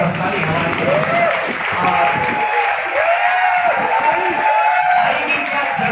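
Loud, sustained applause from an audience at a motivational coaching-class event in Jaipur, dense clapping with scattered cheers and voices running through the whole stretch.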